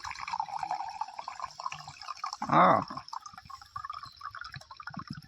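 Coconut water pours from a freshly cracked coconut into a glass in one short, close splashing burst partway through, set against steady room noise.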